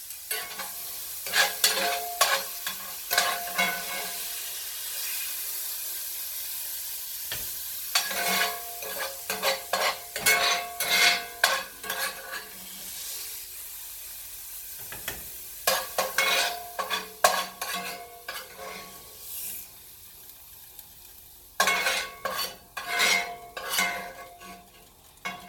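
A spoon stirs sausage gumbo in a stock pot that has begun to boil, producing repeated bursts of scraping and sloshing against the metal in uneven strokes, separated by brief pauses over a low simmering hiss.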